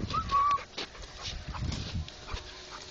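A Rottweiler out in a wheat field gives a short high whine near the start, followed by rustling and soft scuffling movement close by on open ground. No voices.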